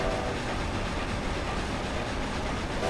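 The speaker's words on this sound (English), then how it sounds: "The train's right there." A train passes by in the racing game Forza Horizon 2 as a loud, continuous, broadband rumble that holds steady throughout, with no talking.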